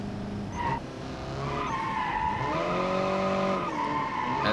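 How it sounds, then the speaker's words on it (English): A car in the Automation driving game brakes hard at speed, its badly set up brakes producing a sustained, wavering tire squeal that rises and holds over the engine for several seconds. "And then slow down with this extremely badly set up brakes."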